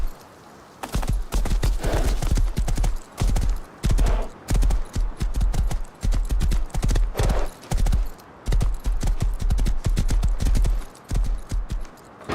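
A horse gallops in the video game Rust, its hooves pounding in a fast, steady clip-clop rhythm, loud and close, with brief pauses between runs.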